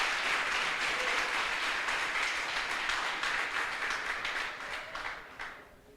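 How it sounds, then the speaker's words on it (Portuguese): Church congregation applauding during a sermon, a dense continuous wash of many hands clapping that holds steady, then thins and fades toward the end. "você pode aplaudir o nome do Senhor."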